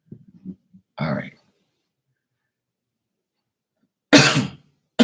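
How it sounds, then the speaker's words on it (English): Person coughing after holding back a sneeze, two sharp harsh bursts separated by a long silence, close and fairly loud, with faint small noises before the first one. "I wanted to sneeze, but I ended up coughing."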